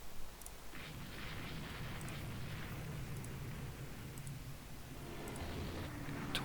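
A torpedo strike and explosion in a naval war video game, heard as a dense, continuous roar of booming blasts and rumbling detonations that keeps up for several seconds.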